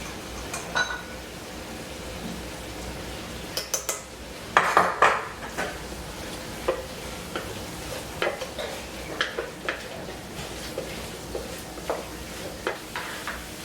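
Spoon stirring flour into a ground beef stroganoff gravy in a pan, with scattered scrapes and clinks of utensil against cookware and a faint sizzle underneath; no one speaks.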